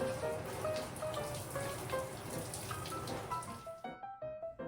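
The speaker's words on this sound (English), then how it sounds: "Turn on your shower head and go ahead and give it its final rinse." A handheld shower head sprays a steady, hissing stream of water to rinse a shower curtain liner, then shuts off and leaves a few seconds of scattered dripping and splashes.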